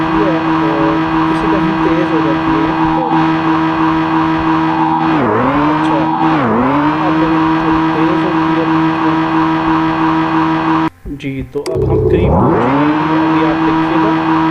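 A car driving in a Unity 3D video game, a loud steady synthetic engine drone that dips in pitch a few times, with a brief cutout near the end before resuming.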